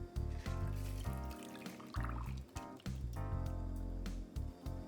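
A Tom Collins cocktail pouring from a shaker through a clipped-in strainer into a Pilsner glass, a close, continuous gurgling stream with splashy, uneven bursts over a few seconds and no talking.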